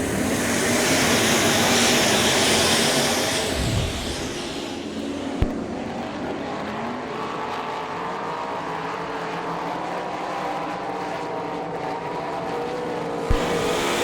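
Race cars roaring on a dirt track at Sarver PA during an All Star Circuit of Champions event, a loud engine drone that swells early then settles into a steady, broad rumble with a couple of sharp knocks.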